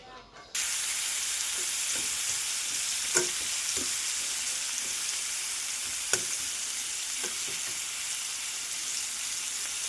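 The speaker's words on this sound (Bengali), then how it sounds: "শুকনো লঙ্কা, হলুদ আর লবণ দিয়ে ভাজা করছি" Raw banana slices frying with dried chili, turmeric and salt in a home kitchen, a steady close sizzle running throughout, broken now and then by brief clinks and soft stirring scrapes after it starts abruptly.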